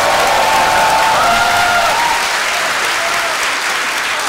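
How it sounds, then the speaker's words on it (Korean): A lecture-hall audience at a Democratic Party presidential-candidate talk in Korea breaks into loud, dense applause that holds steady for several seconds, a sustained wash of clapping with a faint crowd murmur. "다시 한번 큰 박수 부탁드리겠습니다."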